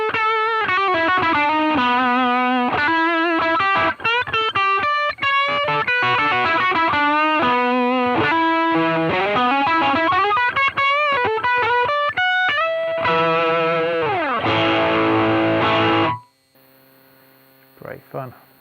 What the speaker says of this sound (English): Then adding the Sheba drive for higher gain tones.